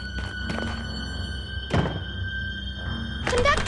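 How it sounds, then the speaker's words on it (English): In the 1999 game Reverse, a train carriage door closes with several heavy thunks and thuds amid mechanical clatter, each impact short and close. "I'll close the door."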